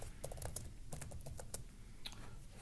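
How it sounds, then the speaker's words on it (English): Quick, irregular clicks of keys being typed on a computer keyboard, close and fairly faint, in uneven bursts with short pauses and no speech. "For example, I can type over here"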